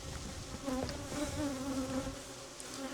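Bees swarm around beekeepers in protective suits at a bee farm, a steady, dense buzzing drone that rises and wavers throughout with no voices.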